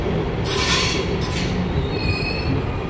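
An electric train rolls past with a loud rushing roar and high metallic squeals from the wheels, close by.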